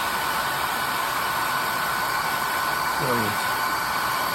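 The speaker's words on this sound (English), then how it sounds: "slowly, with the hair dryer setting on low," Hair dryer on its low setting blowing over wet watercolor paint, a steady loud whooshing hiss that runs the whole time, with a brief voice speaking near the end.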